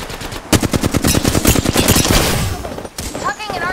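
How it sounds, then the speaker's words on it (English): Enemies in a video game shooter fire long, rapid bursts of automatic gunfire, loud and close, which stop abruptly before a short voice is heard. "The enemies are shooting at me."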